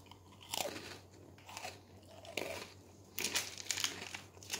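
An original Oreo cookie is bitten and chewed up close, with a sharp crunch followed by several crisp chewing crunches, loud and alone without talking.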